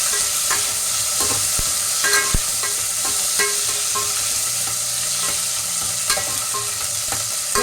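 Onion and vegetables for sambar sizzle steadily in a hot pan, with a continuous frying hiss broken by several sharp clinks and scrapes of a stirring spoon, close and fairly loud, no talk.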